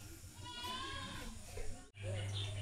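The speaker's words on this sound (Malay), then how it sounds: "Kambing, ada kambing" Goat bleating at a rabbit farm in Bukit Tinggi, Malaysia, a wavering call under nearby chatter and outdoor background noise, followed by a steady low hum.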